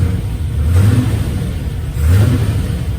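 A Land Rover FC 101's V8 with an Edelbrock 4-barrel carburetor revs up twice, rising and falling in low, throaty pulls over a steady rumbling idle, close and loud.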